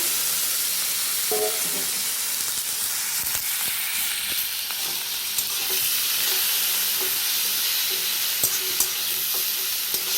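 Tomato, onion paste and chopped garlic fry in hot oil in a wok, a loud steady sizzling hiss with scattered scrapes and taps of stirring throughout.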